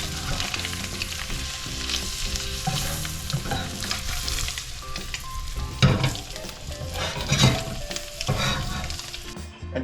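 Rockfish fries in butter in a pan with a busy, continuous sizzle and crackle, with brief louder bursts and clinks of a utensil as the fish is turned, close and without talk.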